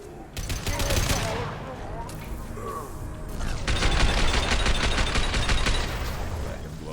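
Rapid gunfire from a weapon in the video game Mass Effect 2, loud, dense bursts of shots that pause briefly and then resume heavier.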